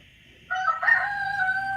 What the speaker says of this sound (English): Y'all hear my rooster?